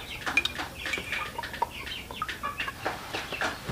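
A sick chicken with a respiratory cold being fed water clucks in a rapid series of short, close, moderately loud calls, with faint clinking in the background.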